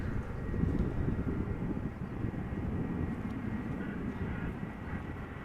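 Croatia Airlines Airbus A320 jet arriving at Amsterdam Schiphol from Zagreb, a steady low engine rumble and roar holding throughout with faint wind noise, at moderate distance.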